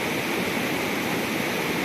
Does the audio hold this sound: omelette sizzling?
yes